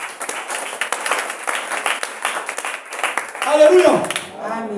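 A church congregation at a Sunday service breaks into rapid, scattered applause that patters steadily, then swells near the end as voices rise over the clapping.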